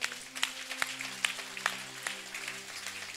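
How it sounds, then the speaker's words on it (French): A church congregation claps in praise of the Lord during a service, a scattered, fairly faint patter of hands with a few sharper individual claps and a low sustained musical hum underneath. "L'église dans l'ensemble, nous applaudissons le Seigneur."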